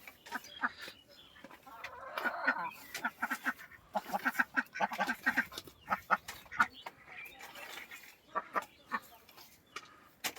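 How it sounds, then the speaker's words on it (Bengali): Ducks quack and chickens cluck in a noisy cluster of bird calls, irregular and close, with faint voices in the background. "বাহ হাঁস মুরগি"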